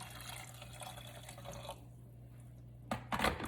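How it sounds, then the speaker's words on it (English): A cup of hot kettle water pours onto oats with a faint trickling splash over a low hum, then a louder burst of splashing near the end. "And then I'm going to go ahead and put in about a cup of water."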